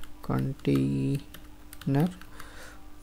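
Keys clicking on a computer keyboard while entering a server container name, with short bursts of tapping between stretches of someone talking.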